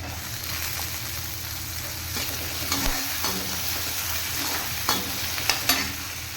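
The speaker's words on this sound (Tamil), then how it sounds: "இப்போ வந்து நம்ம தக்காளி சேர்த்துக்கலாம்" Tomato goes into a pan of frying green chillies for chicken semiya, sizzling steadily while a utensil scrapes and stirs with a few sharper clanks, close and alone.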